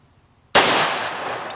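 A single sharp, loud gunshot from a full-size 1911 pistol chambered in .45 ACP, fired at a target, with an abrupt onset and a long decaying echo trailing off afterward.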